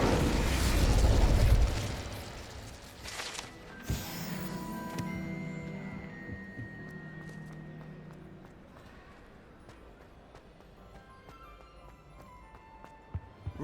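Incendio fire spell cast in a video game, a loud whooshing burst of flame at the start that fades into crackling and scattered magical chimes, with a second flare partway through.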